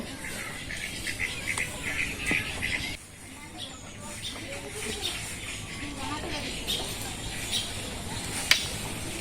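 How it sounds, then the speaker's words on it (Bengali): Birds feeding on ripe guavas in a village tree give scattered, bright chirps over a steady outdoor background, with faint voices in between. "এই যে পাখি খাইতেছে বুঝছো"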